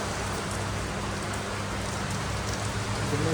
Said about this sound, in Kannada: ಈಗ ಬಂದು ನೋಡಿದ್ರೆ ಮಳೆ ಜೋರಾಗಿದೆ